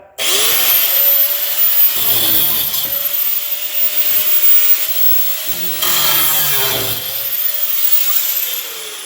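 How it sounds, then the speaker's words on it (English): A power saw cuts through the fuel and brake lines under a Dodge, a loud continuous grinding whine that dips and rises in pitch as the blade bites, running nearly the whole time with brief strained pauses. "let's go ahead and start cutting these fuel and brake lines out"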